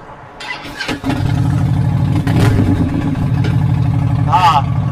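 A motorcycle with mid-mount controls cranks briefly and fires up about a second in, then settles into a loud, close, rumbling idle with a quick rev near the end. A voice is faintly present.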